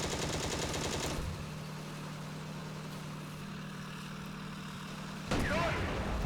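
Gunfire from a tank-mounted gun in the Steel Fury combat game, a loud burst at the start, then a steady engine drone, and another loud burst near the end.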